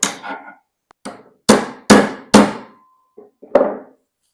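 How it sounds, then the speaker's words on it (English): Six sharp, ringing hammer strikes on a metal hedge trimmer blade, spaced irregularly with short pauses between them, loud and close. "all we need to do is hammer"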